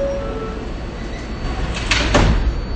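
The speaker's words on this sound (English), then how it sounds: "Please step back from the closing doors." A subway train's doors slide shut on a platform, a rumbling background followed by a pair of sharp closing thuds and rattles near the end.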